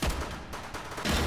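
Gunfire in the VR shooter Hot Dogs, Horseshoes & Hand Grenades: loud, close shots in a rapid burst at the start and another near the end, with a dense, crackling sustained roar between them.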